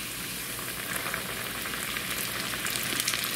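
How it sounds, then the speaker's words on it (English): Carp pieces fry in hot oil with a steady, dense sizzle and crackle, close and fairly loud, holding level throughout with no talk. "And in the hot oil they go."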